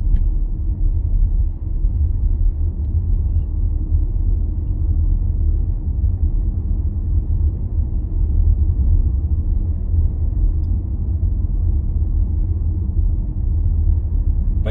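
A car drives through Easterhouse in Glasgow, its cabin filled with a steady low engine and road rumble that holds level from start to finish, with no one talking.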